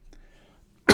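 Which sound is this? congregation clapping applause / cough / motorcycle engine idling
cough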